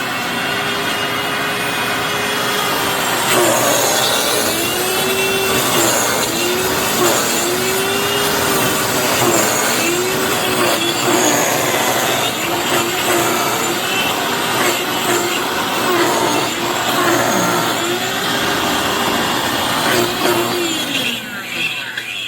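A Hoover FloorMate floor cleaner with failing motor bearings runs loud and close, a harsh grinding whir with a wavering, cyclic squeal that rises and falls throughout.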